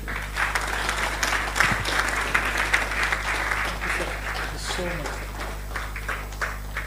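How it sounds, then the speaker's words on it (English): Conference audience applauds at length after a speech, a broad sustained wash of clapping over a steady low hum, with voices faintly mixed in. "Please, can we keep that round of applause still warm, and let's let it come again and again"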